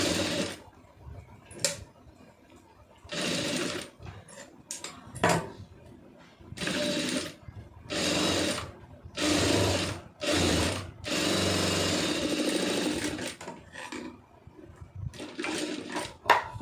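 A sewing machine stitching an Aari blouse runs in repeated bursts of rapid, loud mechanical whirring separated by short pauses, close up with no talking.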